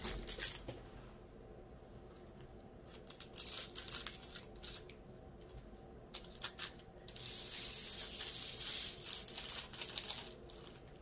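Repeated snipping and rustling, like scissors cutting through plastic or paper, in short irregular bursts close by, with no talking.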